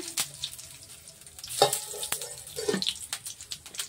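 Bay leaves, a dried chili and whole cumin seeds sizzle in hot oil, a crackling fry broken by a couple of sharp spits and pops, close and alone with no voices.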